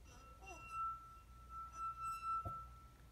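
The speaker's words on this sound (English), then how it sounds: "it's the friction of our finger going around the rim that's causing the molecules on the surface of this glass to move slightly" A wet finger circling the rim of a drinking glass produces a thin, steady high-pitched singing tone that holds throughout, with soft rubbing swells and a low background rumble.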